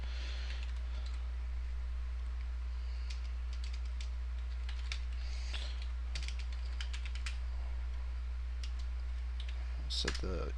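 Scattered keyboard typing with clustered key clicks over a steady low hum, entering router configuration commands on a computer in a quiet room, with no voices.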